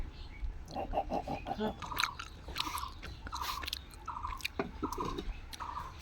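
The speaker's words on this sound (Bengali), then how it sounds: "এখন একটু মাছ খাইয়া দেখবো দেখি কেমন লাগে" Close chewing of fried boal fish cooked with tomato, a quick run of soft wet bites followed by repeated crunchy chews at a steady pace, near and fairly quiet, with some talk between.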